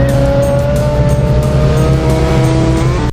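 Racing engines from the Moto Racer video game drone loudly and continuously, a steady high whine with a brief tire squeal, fading slightly at the very end.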